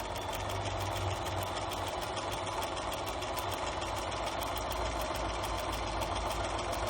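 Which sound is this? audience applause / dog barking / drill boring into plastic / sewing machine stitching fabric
sewing machine stitching fabric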